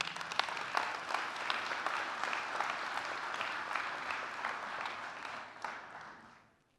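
A conference audience applauds the pioneers of angioplasty, giving steady, dense clapping that fills the hall for several seconds and then fades out at the end.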